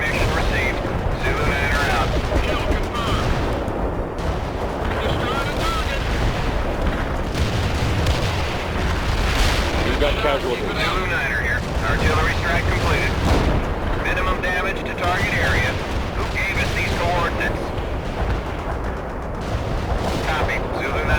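Artillery barrage in the real-time strategy game World in Conflict, dense continuous booms and blasts rumbling for the whole stretch, with radio-style voices talking over the bombardment.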